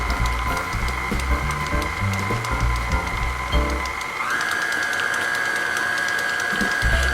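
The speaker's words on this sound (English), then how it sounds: "I'm just creaming the butter and the sugar right now" An electric mixer creams butter and sugar for a Jamaican black cake, making a loud, steady motor whine close by. The pitch jumps upward partway through as the speed changes, with rumbling beater knocks under it early on.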